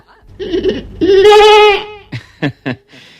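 A sheep gives one loud, close, wavering bleat with no other sounds around it, followed by a few short bursts.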